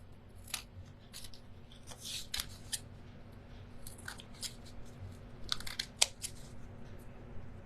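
Scissors snip through an artist trading card in a series of short crisp cuts, scattered and fairly close, over a faint steady hum.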